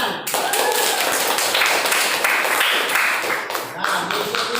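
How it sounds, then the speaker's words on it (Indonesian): An audience claps hands together in steady, dense applause that stays loud and close throughout, with no pause in the clapping. "beri tepuk tangan"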